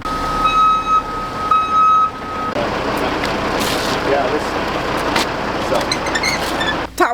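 Trucks working at a campsite early in the morning: repeated loud electronic reversing beeps at first, then a steady diesel engine rumble with clanks and hissing bursts close by, with some speech over it.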